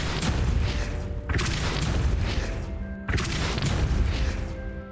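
A Repulso spell cast in Hogwarts Legacy, giving dense booming blasts with crashing, rumbling impacts. Two sharp onsets land about two seconds apart over continuous loud game noise.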